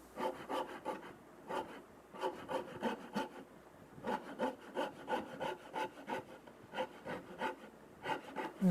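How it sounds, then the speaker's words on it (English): A saw rasp carves the wooden body of a custom guitar, shaping a comfort contour. It makes close, rhythmic rasping strokes in quick groups, with brief pauses between the runs. "the saw rasp kept trying to catch on it"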